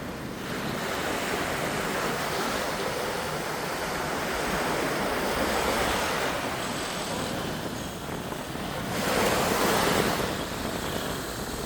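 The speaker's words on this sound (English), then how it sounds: "I'm in beautiful Mondello beach, the most beautiful beach in Palermo area." Surf washes continuously onto Mondello beach near Palermo, a broad steady roar of waves with wind buffeting the microphone and a slightly louder swell near the end.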